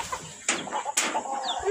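Chickens cluck close by in a short burst of overlapping calls, with two sharper squawks standing out.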